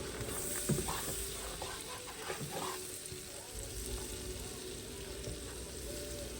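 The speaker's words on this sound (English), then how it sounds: "keep moving it around, especially while it's melting, so that butter doesn't burn" Butter melts in a pan over low heat for sausage gravy while being stirred, giving a faint, steady sizzle with soft scraping and spattering and no speech.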